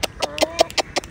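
Hens clucking in a run, a series of short, sharp clucks repeating about every fifth of a second, close and fairly loud with no talking.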